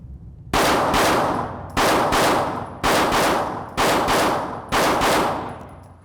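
Five loud pistol shots crack out one by one at steady intervals of about a second during a red dot live-fire drill with a Vortex Defender-CCW sight, each shot leaving a short decaying echo.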